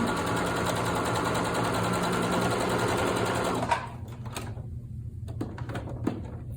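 A sewing machine stitches a line through T-shirt quilt fabric in a fast, even, close-up buzz for a few seconds, then stops abruptly, leaving a few faint clicks and handling sounds.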